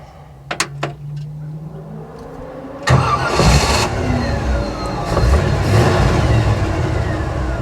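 A 1955 Chevy Nomad turns over with a few short cranking sputters, then catches and settles into a loud, rumbling idle with slight revving, close by and with no talking.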